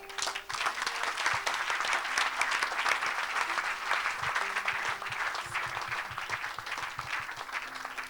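A church congregation applauding the Lord during a worship service, dense sustained clapping from many hands filling the room throughout.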